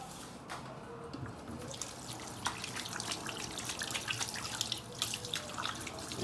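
Tap water runs steadily into a kitchen sink while hands wash up after shaping sticky banana oatmeal cookie dough, with soft splashes and drips close by and no talking.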